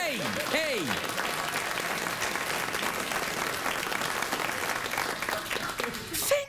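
Studio audience at a late-night talk show breaking into sustained, dense applause that stays steady throughout and then cuts off abruptly at the end.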